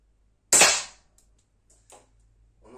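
A Langley Pro Sniper 4.5 mm, 13-joule air pistol fires a single sharp, loud crack that decays quickly, followed about a second and a half later by a faint, distant pellet strike at 16 metres.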